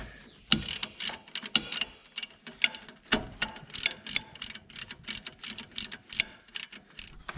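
Ratchet clicking as a 16 mm nut is tightened on the suspension of a convertible, a steady series of sharp, close metallic clicks in rapid rhythmic bursts, with no talk.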